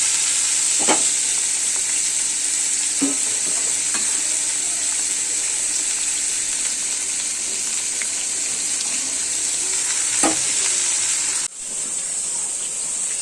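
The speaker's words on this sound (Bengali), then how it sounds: "আজকে পকোড়া রান্না হচ্ছে" Pakoras bubble and sizzle in hot oil, a steady even hiss with a few light knocks of a utensil, then a brief dip near the end.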